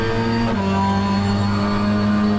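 A race car engine in the rFactor 2 racing game drones at high revs with a steady, buzzing whine, slightly shifting pitch as it runs continuously.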